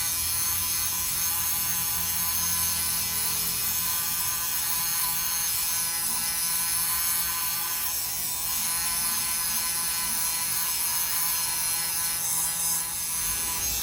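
A sweater's sleeves being depilled, giving a continuous buzzing, scraping hum that stays close and even throughout with no talk.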